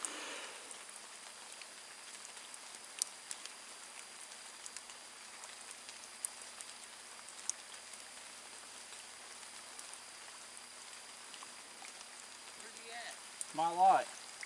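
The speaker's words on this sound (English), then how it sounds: "It's starting to rain" Steady light rain patters at night outdoors during frog gigging in Virginia, a soft continuous hiss with scattered drop ticks throughout, and a brief chirping call near the end.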